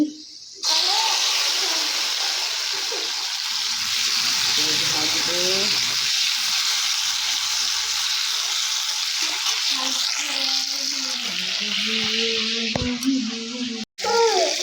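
Oil sizzles loudly and steadily in a pan while breakfast fries, a dense hiss lasting nearly the whole stretch, with faint voices and a few clinks in the background.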